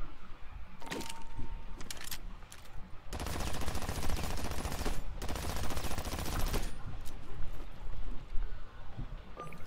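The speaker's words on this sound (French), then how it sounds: "Je vais prendre le pistolet mitrailleur." Sustained submachine gun fire in the sci-fi shooter Aliens Fireteam Elite, a dense, loud continuous burst running about four seconds, framed by scattered shorter shots and game noise before and after.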